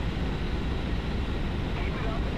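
A damaged Meteor F.4 jet in War Thunder roars steadily at high speed, a dense, unbroken engine and wind rush with no pauses.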